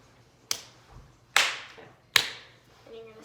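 Three sharp hand claps spaced evenly about a second apart during a TikTok dance, close and crisp in an otherwise quiet room, with a voice murmuring faintly at the end.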